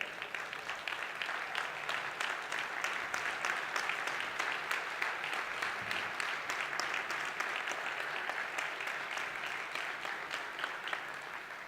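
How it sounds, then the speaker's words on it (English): A standing ovation at a keynote event fills the room with dense, continuous applause from a large audience, steady and unbroken throughout at moderate loudness. "let's just stand up and give them a round of applause, a standing ovation for what they put together."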